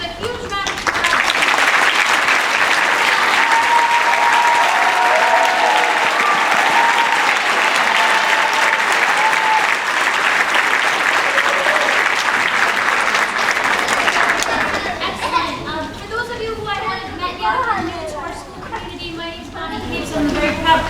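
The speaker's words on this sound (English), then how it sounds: "I want to give a huge round of applause." Audience applauding at a middle school winter concert, dense sustained clapping for about fourteen seconds that then thins into scattered claps and murmuring crowd voices.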